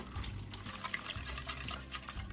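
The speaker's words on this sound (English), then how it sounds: "I'll also whisk in 3 cups of milk." Milk being poured and whisked into a breakfast casserole mixture in a bowl, a close, continuous liquid splashing and swirling with light clinks; no voices.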